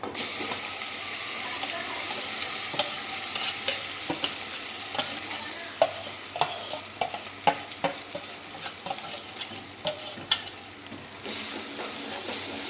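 Steady sizzling with a spoon scraping and stirring cooked dal in a pan, irregular clinks and scrapes over a constant hiss, fairly close.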